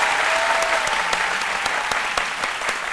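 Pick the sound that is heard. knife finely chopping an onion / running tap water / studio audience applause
studio audience applause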